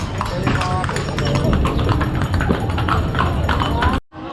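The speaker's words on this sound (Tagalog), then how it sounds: "May kabayo." Steady clip-clop of horse hooves on pavement amid busy street noise and people talking in Vigan, ending abruptly.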